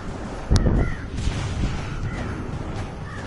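Crows cawing in a DC Universe video game, several short caws spaced out over a loud, rumbling game soundscape after a sharp impact bang near the start.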